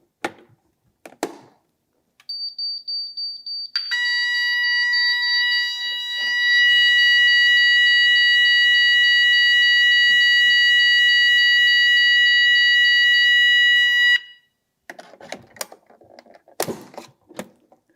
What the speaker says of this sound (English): when there is a fire alarm, the panel's buzzer goes off along with the sound and visual from our visual alarm device